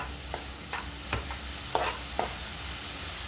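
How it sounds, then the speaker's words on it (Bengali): Food frying in a pan for a Mughlai dish, with a low steady sizzle under about five distinct scraping stir strokes spaced roughly half a second apart, fairly quiet and close. "ভালো করে নেড়ে দেবো।"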